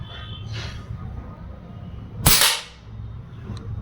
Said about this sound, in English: So I'm going to be mostly firing pellets which are between 8 and 9 grains